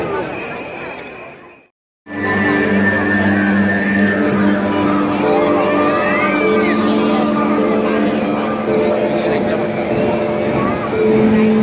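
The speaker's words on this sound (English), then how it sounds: "The crowd, everybody is enjoying." A big outdoor crowd at Eid fireworks in Dubai cheers and whoops in a dense, continuous roar after a brief drop to silence, with nearby voices talking through it.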